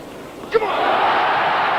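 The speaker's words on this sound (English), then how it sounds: "The crowd go wild" Tennis crowd at the 1995 Davis Cup Final, USA versus Russia, erupting into a loud sustained roar after Chesnokov breaks serve, with a sharp shout at the start and the cheering building and holding steady.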